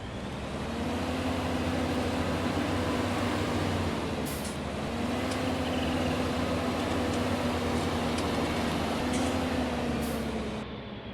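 A tractor engine in Farming Simulator 19 idles and revs in a steady, droning loop, the low rumble swelling and easing a few times with no talking.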